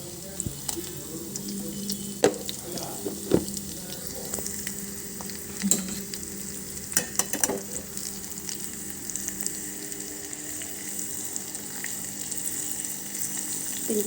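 Mustard seeds, cumin, turmeric and dried red chillies sizzle in hot oil with a quiet, steady crackle. Scattered pops and stirring clicks sound close by.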